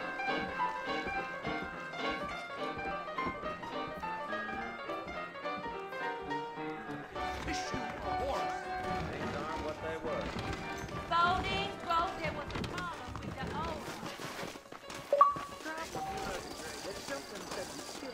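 Horse hooves clip-clop at a steady trot amid Red Dead Redemption game sounds, with voices talking over them and a sharp thump near the end.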